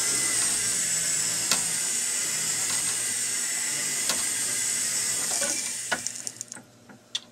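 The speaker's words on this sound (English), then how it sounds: "Use my cup burr to put a nice round finish on each prong." Dense, steady high whirring and grinding from a rotary tool with a cup burr rounding the prongs of a jewelry ring, running continuously up close before tapering off into a few scattered ticks at the end.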